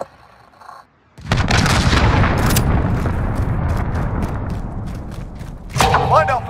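Cruise missile strikes in Call of Duty: Modern Warfare 2 hit after a brief quiet moment, setting off a heavy, continuous roar of explosions and booming impacts, with another sharp blast near the end.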